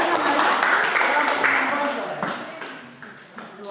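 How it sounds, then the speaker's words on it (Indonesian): A school class applauds a group's PowerPoint presentation in an economics lesson, a burst of clapping that starts full and thins out over a few seconds, with a teacher's voice mixed in. "Keren, tepuk tangan dulu."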